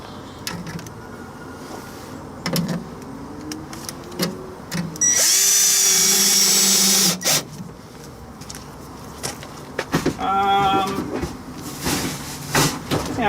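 A cordless power drill drives screws while a tankless water heater is fitted in a travel trailer, giving short buzzing whirs and one long loud high-pitched spin, mixed with clunks and handling noise.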